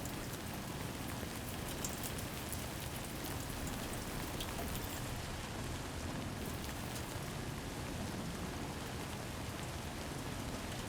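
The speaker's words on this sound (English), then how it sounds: "waiting to see if this rain passes." Steady rain in the Death Stranding 2 video game falls as a dense, even hiss of drops on surfaces, soft and continuous with no voices.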